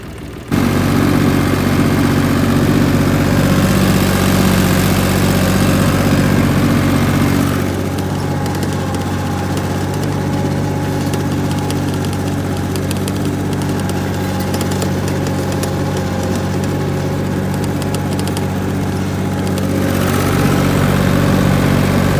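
A Dongfeng-254 tractor engine runs steadily while plowing black soil with a homemade plow, a loud continuous diesel drone with an even tone that eases slightly midway.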